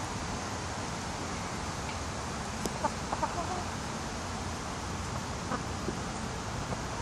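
Backyard hens that have just begun laying eggs cluck softly amid constant outdoor background noise, with occasional brief calls and nobody talking.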